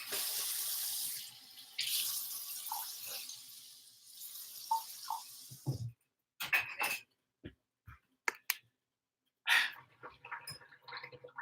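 Water runs from a tap into a cup as a steady rushing hiss for about six seconds, then stops, followed by scattered drips, clinks and handling noises in a quiet room.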